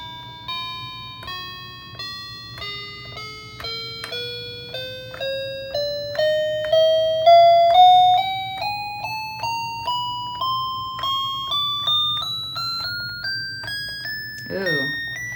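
Cheap Five Below electronic mini keyboard stepping up chromatically in half steps, one bright bell-like beep per note rising steadily in pitch, close, over a faint background hum, with a short vocal sound near the end.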